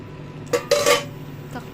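A lid clanks onto a metal cooking pot of simmering Filipino vegetable and crab stew in coconut milk, two quick close metallic clinks followed by a faint rattle, brief and sharp.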